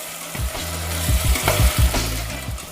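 Onions, garlic and bay leaf fry in a pan for Portuguese bifanas while being stirred, a close steady sizzle broken by repeated scraping and knocking of the utensil against the pan.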